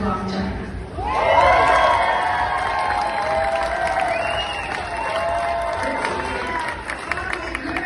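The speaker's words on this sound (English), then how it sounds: "Please give a round of applause to Hong Kong, China." A crowd applauds and cheers at a medal ceremony for the Hong Kong, China silver medal team. Sustained clapping and shouting fill the space under an announcer's voice.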